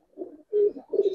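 Giribaz pigeons give three quick, soft coos in a row, close by and alone with no voices.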